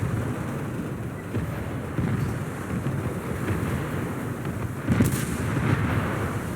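Naval gunfire striking the battlecruiser HMS Queen Mary in a video game, dull booming shots and impacts over steady wind and sea rumble, with a sharper hit near the end.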